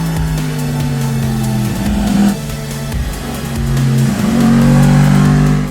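A Yamaha MT-10 motorcycle with a 1000cc cross-plane crank engine revs loudly and close up, its pitch rising and falling through several throttle blips with no one speaking.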